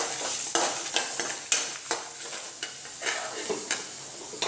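Grated coconut and cumin sauté in oil, a soft steady sizzle broken by repeated scraping strokes of a spoon stirring the pan at an irregular rhythm, close and moderately loud.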